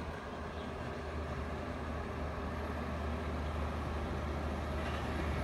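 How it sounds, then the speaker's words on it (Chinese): A large truck on a roadside highway in Guangdong gives a low, continuous rumble that slowly builds, a faint steady drone of traffic with no voices. "有大车来了。"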